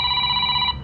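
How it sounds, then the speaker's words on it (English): A retro 1980s-style telephone ringtone gives one short electronic ring with a bright, steady tone, heard alone and close. "80s phone,"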